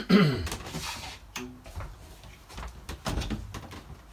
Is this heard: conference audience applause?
no